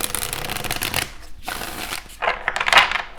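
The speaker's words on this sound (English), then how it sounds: "Let's go ahead and get a shuffle in here for you" A tarot deck is shuffled by hand in quick riffling bursts, with crisp papery flutters and a short pause in the middle, close and clear with no talking.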